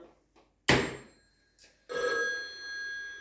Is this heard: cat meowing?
no